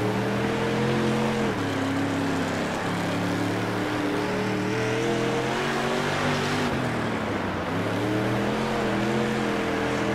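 A sprint car's new motor in a dirt track racing game drones loudly and continuously, its pitch rising and dipping as the throttle opens and eases through the corners, with no voices.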